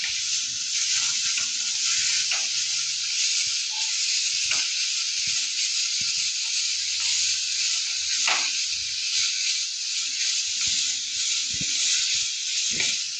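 Broad bean pieces frying in a pan and being stirred, with a steady close sizzle and scattered scraping knocks of the spoon throughout, no talking.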